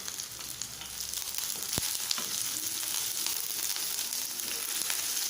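Dried red chillies and curry leaves sizzle steadily in hot oil for a village-style fish curry, a close, continuous frying hiss with faint crackles throughout.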